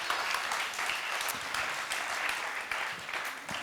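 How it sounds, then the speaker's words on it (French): Applause from an audience for a speaker at a French Christian talk, steady and sustained throughout at moderate distance, with no voices over it. "On peut l'applaudir."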